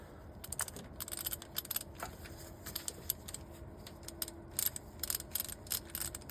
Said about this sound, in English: Show you what I mean about this ratchet now